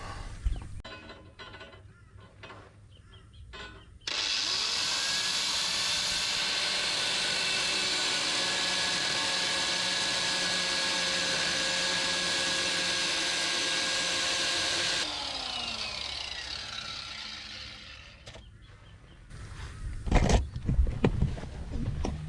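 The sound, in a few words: grinder cutting off a bolt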